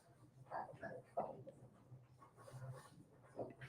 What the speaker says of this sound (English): I'm sorry if you guys can hear the dogs back there